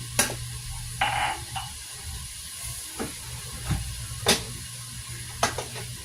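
Food being sautéed in a pan at home, with a low steady sizzle under scattered sharp clinks of a utensil stirring against the pan and occasional kitchen knocks.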